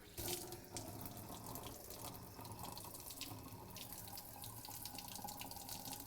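Cold water running from a kitchen tap into a sink, a steady splashing stream with a sharp start, close and fairly quiet, continuing without a break.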